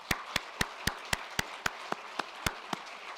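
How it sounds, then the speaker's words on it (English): Sparse, evenly spaced single claps for PhD graduates at a virtual graduation celebration, about a dozen sharp hand claps in steady rhythm, close and moderately loud, with no voices. "huge round of applause"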